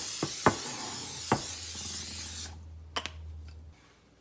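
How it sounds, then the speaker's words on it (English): Olive oil cooking spray coats a casserole dish with a steady hissing spray lasting about two seconds. A few knocks and rubbing sounds come before it, and there are light clicks afterward. "I'm just using this olive oil spray"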